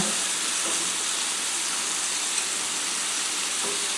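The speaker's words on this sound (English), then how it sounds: "start with some butter, a little olive oil, throw that tuna down. Let's get those artichokes down." Tuna and artichokes sizzle in butter and olive oil for an omelette, a steady, even hiss of frying that runs unbroken and fairly loud throughout, with no voices.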